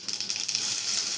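Dried red chillies, mustard seeds and cumin dropped into hot oil, a loud bright sizzle with quick crackling pops at first that settles into a steady hiss.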